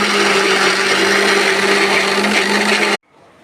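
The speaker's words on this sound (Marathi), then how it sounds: "आता मी थोडंसं अगोदर पाणी टाकते आणि मिक्सरला बारीक वाटून घेते." A kitchen mixer grinder whirs at high speed, blending sour karonda chutney with a little added water: a loud, continuous motor drone that cuts off abruptly near the end, leaving quiet room tone.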